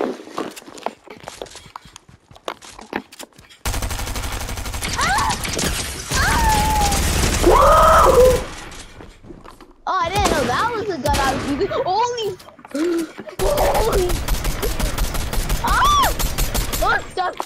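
Fortnite gunfire crackles in rapid bursts and sustained volleys between quieter gaps, mixed with game effects, while players talk over it.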